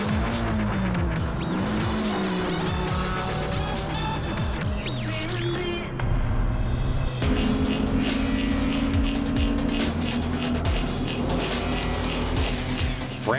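Blue Cheetah's Ford Mustang race car at Ridge Motorsports Park, its engine roaring loud and close throughout with shifting pitch as other cars pass, plus brief tire squeal.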